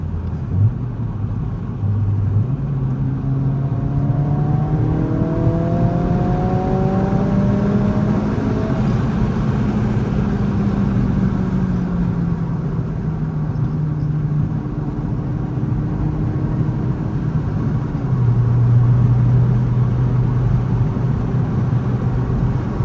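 An 11th-gen Honda Civic Si with a modified exhaust gives a deep, steady rumble that rises and falls gently as the engine revs, close up and without talk.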